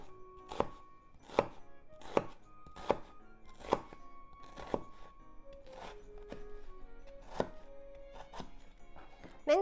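A knife cuts through a peeled vegetable on a cutting board, making about a dozen crisp, evenly spaced chops that are close and clear against a quiet kitchen background.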